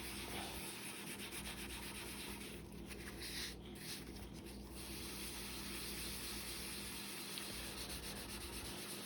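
A coconut fiber sponge scrubs a stain on a quartz countertop with a steady, soft, close rubbing hiss that continues throughout, with brief strokes of slightly different texture partway through.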